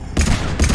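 Brief burst of Mass Effect 3 gunfire, two heavy, rumbling volleys in quick succession, loud and close.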